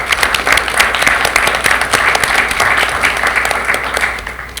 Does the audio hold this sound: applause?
yes